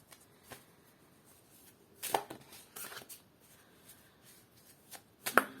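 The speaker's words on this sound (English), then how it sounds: "That was poor shuffling somehow," A deck of playing cards being shuffled: quiet, close riffles and handling in a few short bursts separated by near silence, with no talking.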